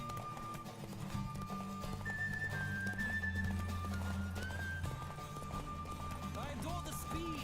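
A horse gallops in The Witcher 3: Wild Hunt, its hooves beating a steady, continuous clip-clop under game music and a voice.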